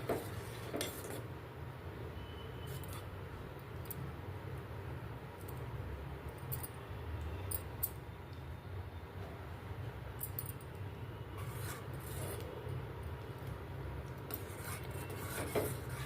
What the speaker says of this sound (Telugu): స్టవ్ లో ఫ్లేమ్లో పెట్టుకొని ఇలాగే కలుపుతూ ఉండాలి